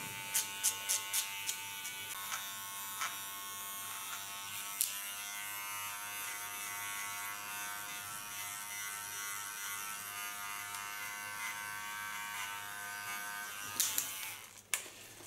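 Small electric hair clippers buzz steadily and close up throughout a short pixie haircut, with a few clicks and taps at the start and a clatter near the end as the clipper is handled.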